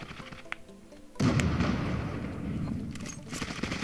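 Gunfire in a video game, a loud sudden burst followed by a rolling, crackling tail, with a faint voice nearby.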